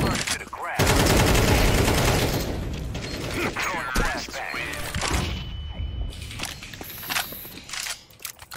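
Gunfire in a first-person shooter video game comes in dense rapid bursts, heaviest early on, then sparser shots and mechanical clicks, with people talking over it.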